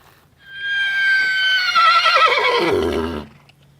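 A horse whinnies loudly during a ground training session, one long clear neigh that starts high and shudders downward in pitch, close by over a quiet background.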